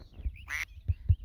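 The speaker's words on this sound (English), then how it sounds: "You can make duck noises with the blinking mirror." A cartoonish duck quack sounds from a blinking mirror in the video game Suikoden 2, one short nasal honk between a few soft low thumps.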